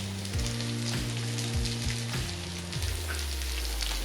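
Onion sizzles in a pan alongside sautéed potatoes, a steady moderate frying crackle with a low humming tone underneath, no voices present.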